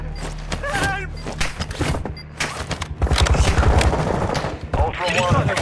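Video game gunfire in a hostage-rescue firefight, sustained automatic bursts and scattered shots, loud and close, with a radio voice talking over parts of it.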